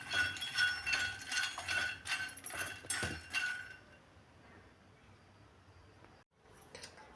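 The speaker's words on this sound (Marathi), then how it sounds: "आपण छान कमी गॅसवरच असे मखाणे भाजून घेऊया" Fox nuts (makhana) dry-roasting in a kadhai on low heat rattle and clink against the metal in quick stirred bursts for a few seconds, then fade to a faint, quiet background.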